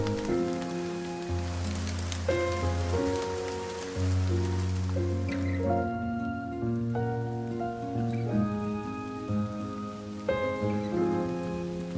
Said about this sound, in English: The endless patter of rain onto the street creates a wordless song.